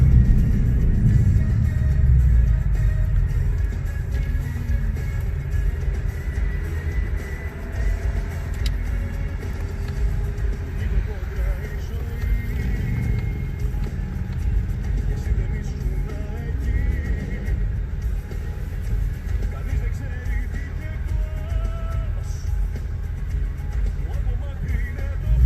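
A 2018 car cruising through a road tunnel, its engine a steady, loud low rumble with a slight rise in revs early on, echoing and continuous throughout with no talk.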